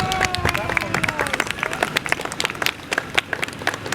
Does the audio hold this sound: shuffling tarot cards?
no